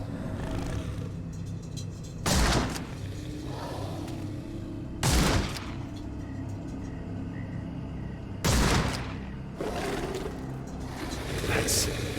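Rifle shots in Sherlock Holmes: The Awakened, fired in a bayou to cut ropes: three loud, sharp cracks spaced several seconds apart, each ringing briefly over a steady ambient bed of swamp noise.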